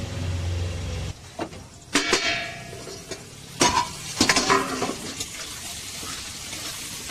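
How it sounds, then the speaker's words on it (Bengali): Capsicum and onion cook lightly with salt in a pan, a steady low hiss broken by a few sharp scrapes and clanks of a stirring utensil against the pan, with no talking. "নুন দিয়ে এটা আমি একটু হালকা করে ভেজে নেবো।"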